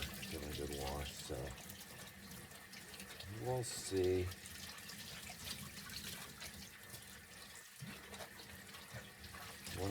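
Tap water runs into a sink to rinse ice-dyed corduroy pants, a continuous splashing flow with faint drips, while a person talks over it.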